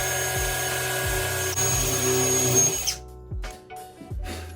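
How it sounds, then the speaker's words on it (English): A carbide drill bit bores into wall tile during a glass shower door install, a loud steady whine for about three seconds, then stopping, followed by short bursts of drilling and clatter. "I have my carbide drill bit on here."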